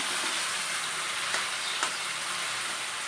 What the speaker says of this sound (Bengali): কচুর শাকটা দিয়ে বেশ ভালো করে আবারও নেড়ে চেড়ে নেব